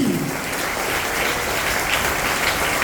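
A crowd claps continuously and vigorously at a school festival, making a thick, even roar of hands that stays loud and constant for the whole stretch, with no talking.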